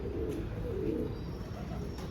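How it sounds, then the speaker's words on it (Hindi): Pigeon cooing among pigeons kept by a fancier, a low soft continuous murmur close by, steady throughout with no talk. "बहुत शानदार कबूतर"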